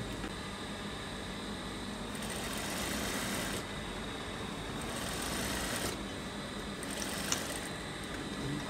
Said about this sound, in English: You have to sew according to that line